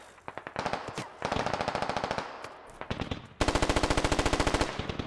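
Automatic gunfire in the video game Squad, several rapid bursts of close, loud rounds separated by short pauses, the final burst longest and heaviest.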